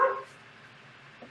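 A pet dog gives a single short bark indoors at the very start, followed by quiet room tone and a faint small yip near the end.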